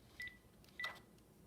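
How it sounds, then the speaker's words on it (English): A mobile phone gives two short, faint electronic beeps about half a second apart in a quiet room. "My phone."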